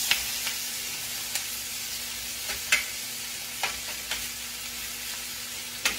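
Blackened red snapper sizzling in a skillet after being flipped, a moderate steady hiss with sharp ticks and pops every second or so and no voices.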